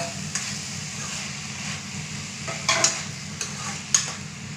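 Dried fish being stirred in a pan for a Thokona flower dish: a steady sizzle-like frying hiss under a low hum, with a few scraping clinks of a utensil against the pan, close by and without voices.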